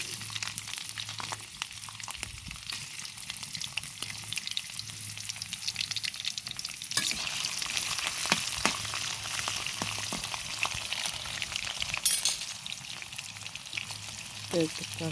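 Shrimp frying in hot oil before pumpkin goes in: a continuous loud sizzle and crackle throughout, with a steady low hum underneath and a burst of stronger spattering midway.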